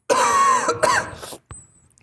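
A man's loud coughing fit: several harsh, close coughs in quick succession over about a second and a half, then a single smaller cough, heard alone without talk.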